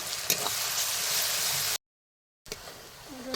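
Garlic paste and onion fry in a pan with a steady, close hiss of sizzling that stops for a brief silent break, then resumes.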